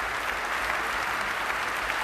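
Delegates at a Left Party conference give steady, dense applause, a large crowd clapping evenly from a little distance.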